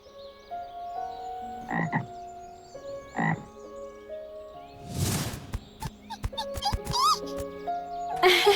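Cartoon frog croaks amid playful music, several distinct croaks scattered over a cheerful melody with sound effects, a voice speaking briefly in between.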